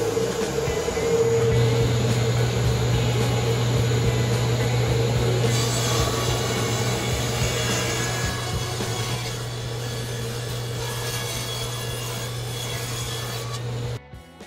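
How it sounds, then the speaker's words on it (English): Wood being sawn into 1-inch strips for a segmented woodturning bowl: a loud, steady rasping cut with a constant machine hum running for most of the stretch, then stopping abruptly near the end. "I'm going to start cutting up into 1-inch strips"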